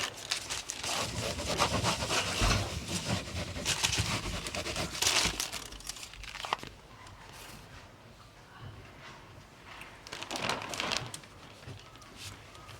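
Paper is rubbed over a Japanese woodblock print in bursts of dry scraping and crinkling friction, close and fairly quiet, with pauses between strokes and some faint background voice.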